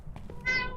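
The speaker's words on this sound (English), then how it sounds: "Can you guys hear my cat or just me making meowing sounds?" A house cat gives a single short meow, close and clear, over low background noise.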